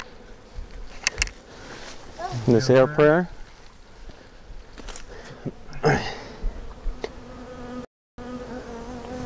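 Honey bee swarm buzzing during a removal, a steady low insect hum under close voices and brief handling noises.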